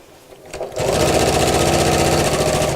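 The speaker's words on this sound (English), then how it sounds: "I'm sewing quite close to the edge because my bias binding is going to cover the stitches" A sewing machine stitching straight across fabric close to the edge, starting up after a brief pause and then running steadily with a loud, fast, even mechanical chatter.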